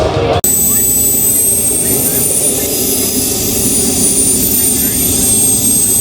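A jet aircraft engine roars steadily at an airshow, a loud sustained whine and rumble with a brief dropout near the start and continuing throughout.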